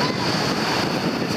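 Ocean waves on a shore in Vietnam make a brief, steady wash of broadband rushing noise, loud and close, mixed with wind buffeting the microphone.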